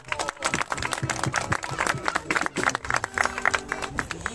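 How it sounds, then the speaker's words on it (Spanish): A group of children at a children's evangelization gathering in Peuco claps in a busy, uneven patter mixed with crowd noise and scattered voices, sustained for several seconds. "¿Le damos un aplauso a Jesús?"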